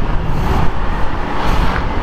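A steady, dense roar of road traffic in Taiwan with engines rumbling continuously and no clear gaps, loud and close.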